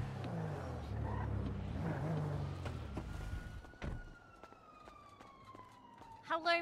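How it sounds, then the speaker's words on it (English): Police car sirens wail in a GTA roleplay scene, a long rising and falling tone sweeping across the clip after some engine rumble, ending with a sharper siren burst nearby. "You hear those sirens?"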